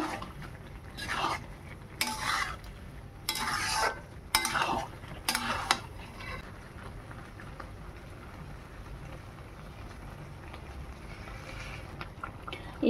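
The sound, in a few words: stirring fried potatoes into goat lung curry in pan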